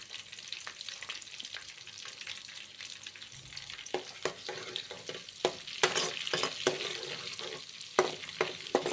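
Green chilli pieces fry in about four tablespoons of hot oil in a kadai, a soft continuous sizzle broken by sharp scraping stirs that grow louder and more frequent toward the end, with no talking.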